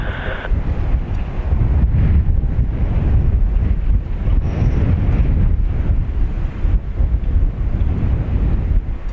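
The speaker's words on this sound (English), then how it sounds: "I'm stood on the side of a field on a hill, just getting blown around" Strong wind buffets the microphone on the side of a hilltop field, a loud continuous low rumble with gusty fluctuations throughout.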